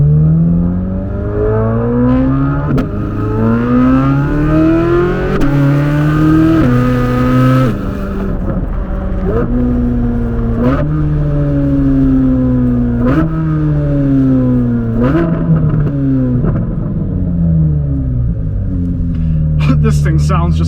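A Corvette C8 Z06 with a flat-plane crank V8 revs loudly from inside the cabin, climbing through gears in repeated rising sweeps with brief dips at each shift, continuous and close, with occasional clicks near the end.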